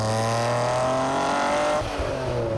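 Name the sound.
Noble M400 sports car accelerating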